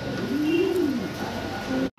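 Damascene pigeons coo, one soft rising-and-falling coo followed by a brief second note, close by over a steady background hum.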